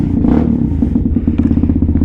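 A cold Venom Thunder 125cc motorcycle, just kick-started without choke, idles loudly up close with a rapid, rhythmic single-cylinder putter and slight mechanical clatter.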